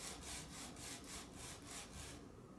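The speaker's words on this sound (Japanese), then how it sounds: "紙やすりを置いといてこうやって削る" Wood being sanded by hand with sandpaper while making a circular wooden xylophone, a steady rhythmic back-and-forth scraping of about seven strokes, close and alone before it stops.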